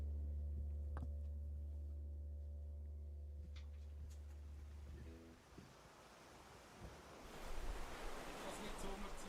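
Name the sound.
ocean waves sound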